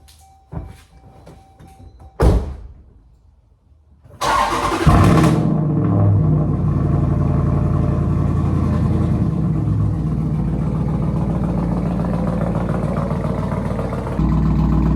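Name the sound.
Jeep SRT cold start engine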